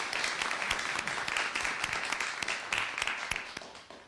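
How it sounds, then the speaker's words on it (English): Applause from a hearing audience after a panel at a California state Senate BRAIN Initiative hearing, a dense, fairly close wash of clapping that holds steady and then slowly thins toward the end. "How about a round of applause for this panel?"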